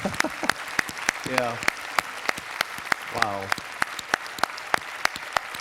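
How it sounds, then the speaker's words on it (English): A small audience claps in sparse, separate hand claps at a near-death experience conference Q&A, while people briefly exclaim and talk over it. "Chris, round of applause."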